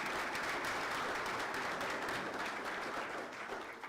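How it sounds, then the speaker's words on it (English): Audience applause at a Cedarburg community event honoring a sponsor, a steady, dense wash of clapping that holds evenly for the whole stretch before easing slightly at the end. "please join me in giving them a very big round of applause"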